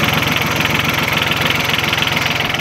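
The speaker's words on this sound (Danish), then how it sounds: "Det er en diesel, en dieselmotor, der er bygget om til at køre på rapsolie." A diesel motorcycle engine converted to run on rapeseed oil, with a three-stage compressor, knocks at idle at a race meeting, close and loud in a fast, even rhythm with no talk over it.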